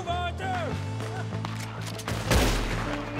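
Gunfire in Red Dead Redemption 2 as hostile characters draw on the player: a few sharp shots and a heavier blast near the end, over tonal game music and ambience.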